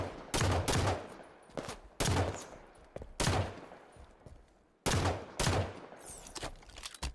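Sniper pistol fire in a Halo 5 multiplayer match: four or five sharp, loud shots spaced about a second apart, each with a ringing tail, over faint ambient noise.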